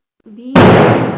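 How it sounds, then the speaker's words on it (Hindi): Diwali firecrackers burst with a sudden loud, noisy crack that follows a short rising fizz and then fades slowly. A voice speaks briefly just before it. "दिवाली के अभी पटाखे फूट रहे हैं"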